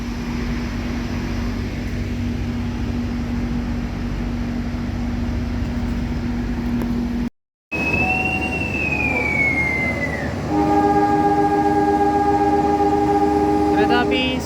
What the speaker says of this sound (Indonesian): Kereta api Sembrani Tambahan berangkat dari stasiun Semarang Tawang, tujuan akhir stasiun Surabaya Pasar Turi